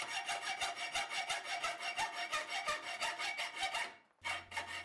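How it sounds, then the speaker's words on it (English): Steady rhythmic hand sawing of a steel machete blade blank, quick back-and-forth rasping strokes close up, stopping briefly near the end before resuming. "Still sawing."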